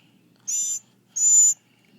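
A hungry baby bird being hand-fed gives two short, high, piercing begging calls, each about a quarter second, loud and close against a quiet background.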